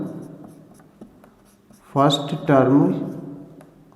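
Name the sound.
writing the first term of an arithmetic progression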